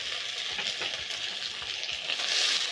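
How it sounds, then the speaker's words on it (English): Tomatoes hitting garlic already frying in a pan give a steady, moderately loud broadband sizzle that swells slightly near the end, with no voices present. "When ready, you're going to add in 2 large tomatoes."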